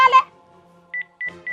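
Telephone keypad tones dial out to the police: a brief voice at the start, then a pause, then three pairs of short, clear beeps in quick succession.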